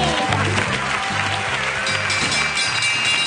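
Studio audience applause on a Spanish television programme, a steady dense wash of clapping filling the whole stretch over a rhythmic low musical pulse, with no clear voices on top.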